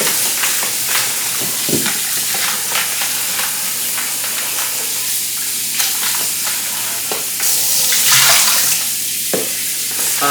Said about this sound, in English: I'm gonna do 2 more rinses, 5 total.